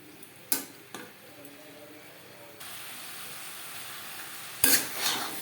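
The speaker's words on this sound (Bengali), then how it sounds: "মিডিয়াম ফ্লেমে আলু ও মশলার সাথে বেগুন আরও তিন চার মিনিট নাড়াচাড়া করে নেব" Eggplant with potatoes and spices cooked over a medium flame in a pan, a few distinct clinks and scrapes of a utensil stirring, then a low steady sizzle that swells near the end with a loud scraping stroke.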